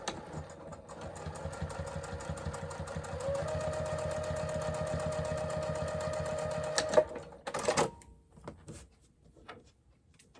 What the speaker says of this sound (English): And then our top stitch using an 1/8 of an inch seam allowance.